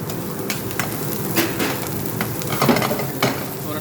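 Green capsicum is stir-fried for restaurant-style fried rice in a Dubai restaurant kitchen: a steady close sizzle with scraping and occasional soft clanks of a utensil against the pan.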